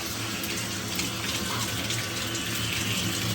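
Running shower spraying water in a continuous loud hiss and splash, even and unbroken from start to finish, with no voices over it.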